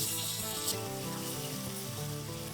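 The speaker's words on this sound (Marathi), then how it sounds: "आपण एक मध्यम आकाराचा टमॅटो घालणार आहोत तोही आपण चांगला परतून घेणार आहोत" A medium tomato fries with browned onions in a pan, giving a soft, continuous sizzle with a low steady hum beneath, fairly quiet and unbroken, with no speech.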